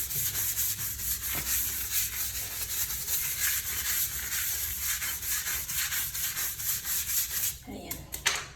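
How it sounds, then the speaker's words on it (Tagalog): A large brush scrubs a toilet bowl in steady, vigorous back-and-forth strokes, a continuous close rasping and rubbing that runs throughout without talk. "Tapos, yan, ginagamitan ko rin ng malaking brush."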